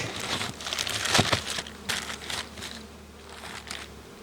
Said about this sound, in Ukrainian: Закрию вулик.